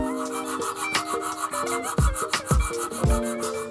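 Hand sanding of a gold-inlaid dagger guard, a close rhythmic rasp of strokes with a faint tonal ring from the metal piece. Several heavier strokes land near the end, and no one speaks.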